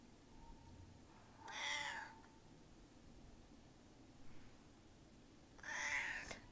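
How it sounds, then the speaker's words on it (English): A pet cat meows twice, crying for food, each call short and fairly clear against a quiet, faintly hissing room, with a long pause between them. "And that's my cat crying next to me for her second dinner."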